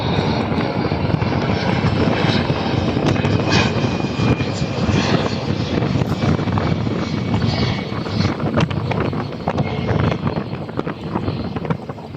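A large boat motor drones loudly and steadily at sea near a Philippine reclamation area, a heavy motor rumble mixed with broad noise and some wind buffeting.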